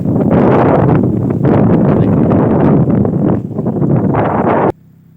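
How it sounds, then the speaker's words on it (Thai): Strong wind roars and buffets loudly and continuously across an open rural roadside with mountain views near Pak Chong, Thailand, then cuts off abruptly near the end. "ลมแรงเลย"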